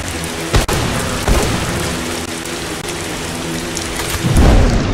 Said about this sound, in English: Come on, acid rain.